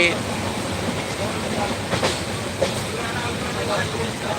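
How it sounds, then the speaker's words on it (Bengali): A moving train rumbles steadily with a continuous low roar and faint rhythmic rattling of the carriages throughout. "এই ট্রেনে উঠলাম আটটা চল্লিশে ট্রেন ছেড়েছে"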